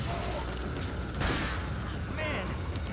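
A flashbang goes off in Resident Evil 4, a mid-loud burst about a second in that briefly swells over steady game noise, followed by ringing and clatter, while someone talks.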